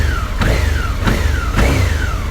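Suzuki V-Strom 650 XT motorcycle fitted with a small baffled exhaust, revving loudly up and down in three rising-and-falling sweeps, close to the microphone with no talking.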